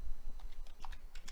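Keys click on a computer keyboard while someone types a formula into a spreadsheet, a quick, uneven run of soft, close taps with no talk.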